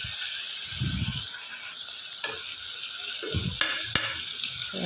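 Potatoes fry in oil on a stove with a constant hissing sizzle, broken by a few sharp clicks and brief low stirring sounds.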